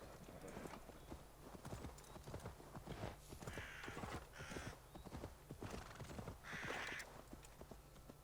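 Horse hooves clip-clop steadily in Assassin's Creed Valhalla, a rhythmic run of hoofbeats with a couple of neigh-like calls mixed in, heard fairly faintly with no talk over it.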